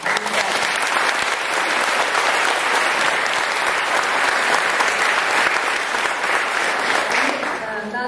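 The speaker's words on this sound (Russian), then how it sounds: "я прошу аплодисменты моим спонсорам" Sustained applause from a seminar audience at a business success event, steady and dense for about eight seconds, easing slightly near the end.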